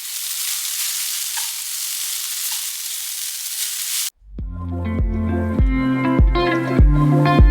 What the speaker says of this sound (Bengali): কিন্তু আমি হালকা করে একটুখানি নুন আর গোলমরিচ দিয়ে ফ্রাই করে নিই